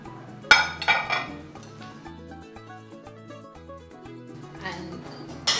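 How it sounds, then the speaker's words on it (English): A fruit plate set down on a breakfast table with a sharp ceramic clink, followed by a few lighter dish and cutlery taps while soft music plays underneath. "now I'm putting down my fruit plate"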